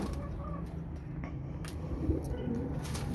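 A pigeon coos softly in a loft where one female pigeon and some young birds are kept, low repeated coos under steady background noise.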